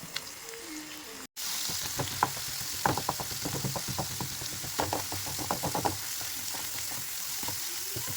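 Dried fish fries in coconut oil with onions in a pan, giving a steady close sizzle with repeated clinks and scrapes of a spoon stirring throughout.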